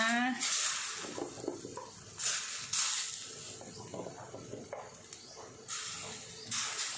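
Pumpkin stirred into a simmering Thai beef curry in a pot, with intermittent scraping stirs, bubbling and sizzling bursts over about seven seconds while someone talks.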